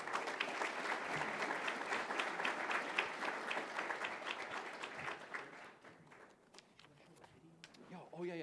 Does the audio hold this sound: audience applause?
yes